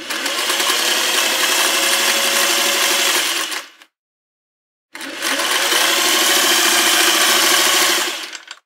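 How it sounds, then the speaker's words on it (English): A sewing machine set to its longest stitch length stitches through dishtowel fabric. It gives two loud, steady whirring runs of about four seconds each, close up, separated by a moment of silence. "Now all I'm gonna do is sew, and just watch the magic"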